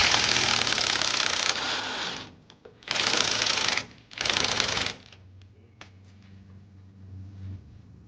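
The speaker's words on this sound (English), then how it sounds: "we're going to remove the lower strut bolt" Impact wrench bursts on the lower strut bolt of a 2015 Ram 1500 during a leveling kit install: three loud, close rattling bursts of about a second each, followed by a low steady hum with faint clinks.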